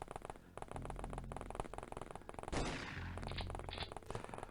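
A burst of shotgun fire goes off in the strategy game X-Com Files, one sharp blast breaking through a busy backdrop of game sound and other rattling shots.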